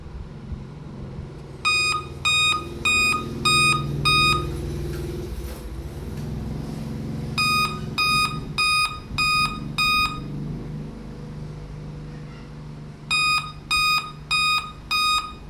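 Computer with a faulty graphics card sounding repeated bursts of five sharp electronic beeps, three groups spaced apart over a low fan hum, clear and close with no talk.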